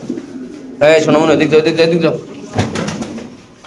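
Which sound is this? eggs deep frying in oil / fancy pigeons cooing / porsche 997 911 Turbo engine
fancy pigeons cooing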